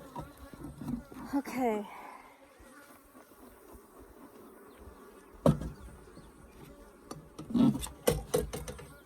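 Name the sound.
Africanized hybrid honey bees buzzing at an opened hive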